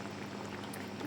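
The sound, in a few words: cooking cream poured into a pan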